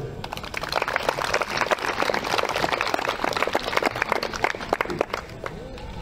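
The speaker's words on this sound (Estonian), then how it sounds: "Aplaus!" A crowd at an outdoor town fair in Kunda applauds a port director as he is welcomed to the stage, a sustained, dense wash of clapping from many hands lasting throughout.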